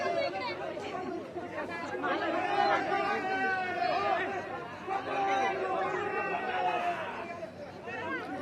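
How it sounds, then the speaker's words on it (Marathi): Party workers celebrate Gokul Gite's election victory with a lively hubbub of overlapping voices, shouts and chatter that rises and falls throughout, close and busy. "कार्यकर्ते प्रचंड आनंदात जल्लोष साजरा करताना आपण पाहतोय"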